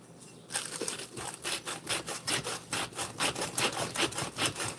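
A salt grinder crushing salt in a kitchen while pancakes are made, a close rhythmic series of gritty scraping bursts repeating steadily after a brief quiet start.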